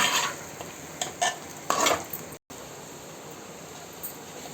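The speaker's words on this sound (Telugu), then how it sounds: "మనం కొంచెం కొబ్బరి కూడా వేస్తాం కాబట్టి అడుగంటే గుణం ఉంటుంది కాబట్టి మనం కలుపుకుంటూ ఉండాలండి" Short scraping strokes of a spoon stirring prawn curry masala with coconut in a pan, a few close, brisk bursts over a low sizzle, then a steady quiet fry.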